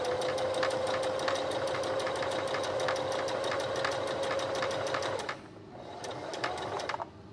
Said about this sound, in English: So watch what happens as I do my stitch.